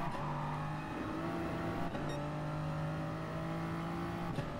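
Nissan GT-R lapping the Nürburgring Nordschleife in a racing video game: a loud, sustained engine roar at high revs, with a brief shift blip midway and continuous road noise.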